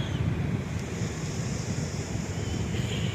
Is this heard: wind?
yes